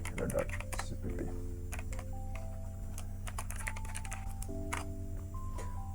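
Fingers type on a computer keyboard at close range with a quick run of light clicking keystrokes.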